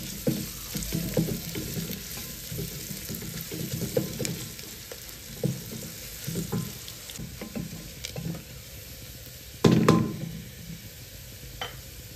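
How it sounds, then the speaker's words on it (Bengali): Onions and chopped garlic fry in a pan with a steady close sizzle, broken by scrapes and knocks from stirring, and a louder burst of spitting near the end. "এই পেঁয়াজ আর রসুনটাকে একটু লাল লাল করে ভেজে নেব।"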